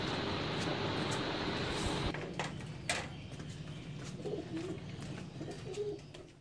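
Pigeons coo from a cage as grain is put out at summer feeding time, with a burst of broad rustling noise early on, then steady low cooing and a few sharp knocks.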